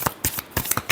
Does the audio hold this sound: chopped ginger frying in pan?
no